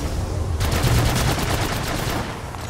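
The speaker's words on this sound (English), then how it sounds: "Shots fired at me." Rapid automatic gunfire in Apex Legends, a fast, evenly spaced burst of shots starting abruptly and running close and loud for about two seconds before easing off.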